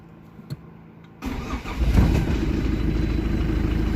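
Quiet at first with a couple of clicks, then a Mazda Capella 626 diesel engine cranks and catches, settling into a loud, steady running rumble.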